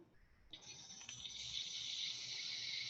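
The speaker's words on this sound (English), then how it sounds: "Can you help me flush the potty?" Toilet flushing: a faint click at first, then a sudden hissing rush of water that swells and holds steady, close and continuous, with no voices.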